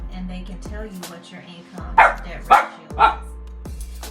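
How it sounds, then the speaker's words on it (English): A dog barks three times in quick succession close by, sharp and loud, behind someone speaking steadily in a home podcast setting. "Excuse the dog in the background"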